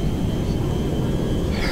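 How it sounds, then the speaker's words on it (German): Helicopter lifting off and flying in the video game GTA 5 Online, a steady loud rotor and engine drone filling the whole stretch without a break. "Ja, der Heli hebt."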